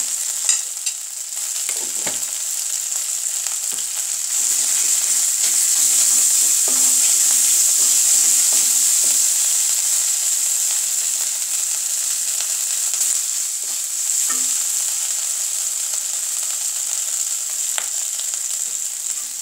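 Vegetables sizzle steadily in a hot pan after dried chili powder goes in, and a utensil scrapes and stirs now and then. The frying hiss is loud and continuous, with no talking.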